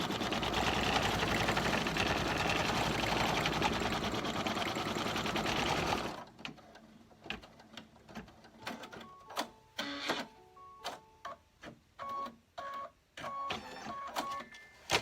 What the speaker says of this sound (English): So now I'm going to stitch my tack down stitch, and it's going to go over all the layers